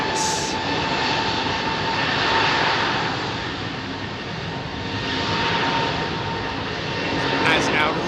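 A British Airways Airbus A380 jet departs Heathrow with a broad, steady engine roar that swells and eases over several seconds, loud and continuous, with a voice briefly heard near the start.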